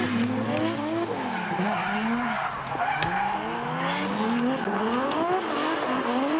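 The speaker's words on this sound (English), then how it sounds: "Aaron Hyatt out of New Plymouth in that Nissan S14 Sylvia running the 2JZ power plant, making just over 700 horsepower" A Nissan S14 Sylvia drift car with a 2JZ engine of just over 700 horsepower screeches its tires in long wavering squeals at a drift series round, engine revving up and down throughout, no talk.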